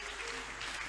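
A church congregation at a Monday ministry service applauds in a continuous, dense wash of clapping, faint and distant.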